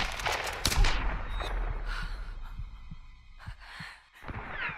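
Sharp gunshots from a handgun in the Tomb Raider video game, a few loud separate bangs spread across the moment amid game ambience, with no talking.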